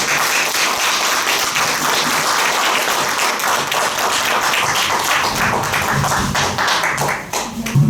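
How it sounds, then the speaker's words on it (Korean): An audience at a lecture in Korea claps to welcome a former high school principal as the speaker, a dense, even roar of applause that holds for about eight seconds before tapering at the end. "큰 박수로 모시도록 하겠습니다."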